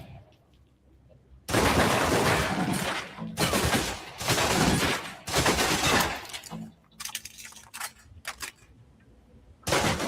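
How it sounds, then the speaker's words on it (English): Submachine gun emptying a full magazine in a video game: several loud bursts of rapid automatic fire with short gaps between them, close and dominant. "Now let's empty the clip. Let you get a feel for the recoil."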